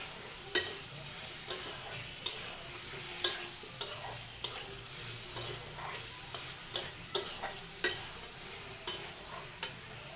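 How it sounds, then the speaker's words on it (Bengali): Potatoes and spices being stir-fried for a green-chilli chicken and potato curry, a soft steady sizzle broken by about a dozen sharp spatula scrapes and knocks against the pan at irregular intervals, close by, with no talking. "আলুগুলো দিয়ে আলুগুলো আর মশলা ফিরে আবার একটু কষিয়ে নেব।"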